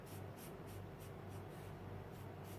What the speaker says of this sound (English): I can do lines, I can control what I'm doing with the felt pens